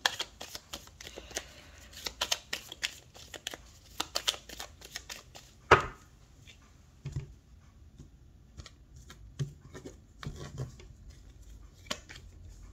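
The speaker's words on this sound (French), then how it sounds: "Allez, on va faire le tirage." A deck of tarot cards is shuffled for a reading, giving close, crisp riffling and flicking bursts in quick irregular runs, with one sharp louder snap near the middle and softer card handling afterward. No talking.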